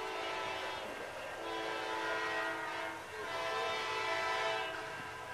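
A Norfolk Southern freight train, V18 led by Dash 9 diesel locomotive NS 9527, departs in Suffolk, its horn sounding loudly in steady blasts over continuous engine rumble and rail noise, close by.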